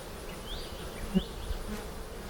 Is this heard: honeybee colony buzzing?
yes